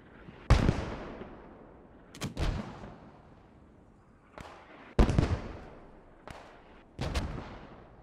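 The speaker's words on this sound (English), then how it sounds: "They can hear where the mortars are." Mortar rounds firing and landing in the Post Scriptum war game: about half a dozen heavy booming blasts at irregular intervals, some in close pairs, each with a sharp onset and a rumbling decay.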